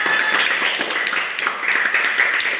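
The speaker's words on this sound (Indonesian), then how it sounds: "Oke, tepuk tangannya." A group of students claps together during a classroom group-counselling session, producing a dense, steady patter of many hands that holds for a few seconds and then stops abruptly.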